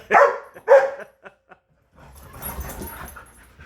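Dog barking in two loud, close bursts during an excited bout of zoomies, followed by a few short yips, a brief pause, then rapid panting and scuffling as it races around during playtime.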